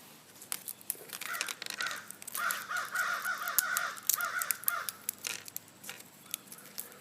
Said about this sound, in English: Crows are starting to call.